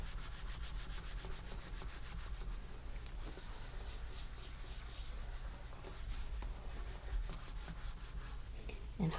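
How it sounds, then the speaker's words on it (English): Steady dry rubbing of a hand across cardstock laid over an inked stamp, a continuous soft scraping texture with small repeated strokes, close and even, with no talk. "put the piece of cardstock back on top, and again rub all over the surface"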